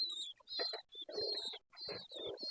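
Pigeons at a feeding spot coo and chirp in short, broken bursts, with a thin high whistling tone above. Close and fairly quiet, with no voices.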